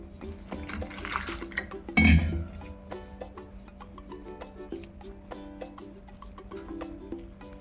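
Water poured into a bowl of mung bean batter for dhirde, a short burst of liquid splashing with a dull clink near the two-second mark, then quiet bowl and kitchen sounds.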